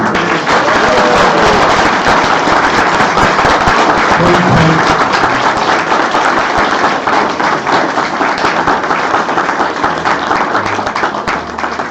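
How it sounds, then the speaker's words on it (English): Wedding guests at a ceremony break into a big round of sustained, loud applause, dense clapping from a large crowd that holds steady for the full twelve seconds. "they need a really big round of applause"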